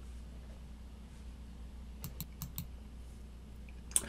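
Keys clack on a computer keyboard during typing. A faint stretch of quiet background comes first, then a quick run of four or five distinct keystrokes and one sharper click at the end, all close and without speech.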